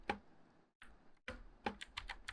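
A few sharp, close computer keyboard and mouse clicks while working in Photoshop, sounding as isolated taps followed by a quick run of clicks, quiet with no talk.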